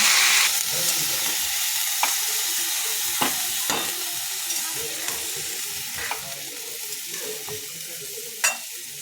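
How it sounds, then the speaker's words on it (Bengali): Spinach sautés in fried spices with a constant bright sizzle, close and even, while a utensil scrapes and taps against the pan at irregular moments. "পালং শাকটা দিয়ে ভালো করে কষে পালং শাকটা আমি সেদ্ধ হতে দেব"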